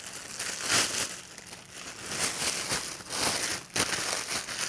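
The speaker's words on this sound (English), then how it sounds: "I will put this in the plastic bag." Plastic bag crinkling as a lump of kneaded noodle dough for red bean knife-cut noodle soup is slipped inside, a steady rustle with a few louder crackles, close and alone without talk.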